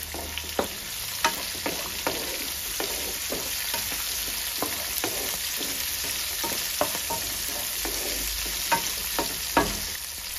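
Onion pieces and green peas frying in a pan for a palak aloo matar curry, giving a constant sizzle broken by frequent sharp pops and spatters at an uneven rhythm.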